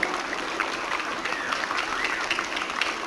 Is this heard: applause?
yes